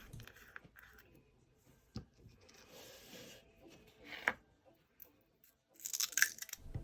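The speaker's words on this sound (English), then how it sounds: "I just love the sound of freshly opened paint" A fresh container of Arteza acrylic paint in yellow is opened up close: soft clicks and faint rustling lead to a sharp tap, then a short crackly, sticky burst near the end. No one speaks.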